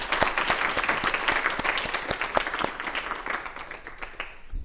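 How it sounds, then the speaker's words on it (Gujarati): Sustained audience applause fills a comic poetry gathering (hasya kavi sammelan), a dense, steady patter of many hands clapping close by for the whole stretch before tapering slightly at the end. "તાળીઓથી વધાવો"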